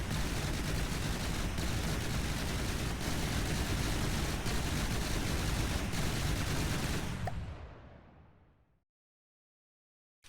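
Rapid, sustained automatic cannon fire from belt-fed autoloader guns in From The Depths, a dense unbroken barrage of shots that holds loud for about seven seconds before trailing off into silence.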